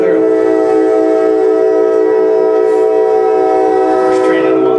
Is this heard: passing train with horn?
yes